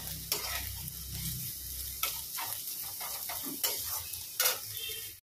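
Potatoes fry with bitter gourd in a pan, a steady hissing sizzle broken by repeated spatula stirs and scrapes against the pan, close and fairly loud, without talking.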